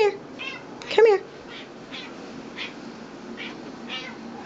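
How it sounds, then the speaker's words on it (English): A RagaMuffin cat gives a couple of short, close meows, one louder than the rest, while a person talks softly and calls to it. "I think Mocha should be a performing cat"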